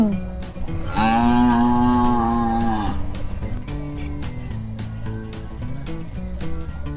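A gaur, a wild bull, gives one long, deep, resonant moo lasting about two seconds, loud and close, followed by a low ambient hum with faint insect-like chirping.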